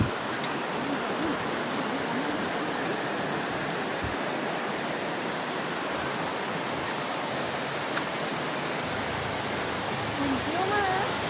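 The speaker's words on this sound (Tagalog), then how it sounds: "May ilog sa baba." Steady rushing of a river flowing below an outdoor vantage point, a broad continuous wash of water noise throughout, with a person's voice faintly heard over it near the end.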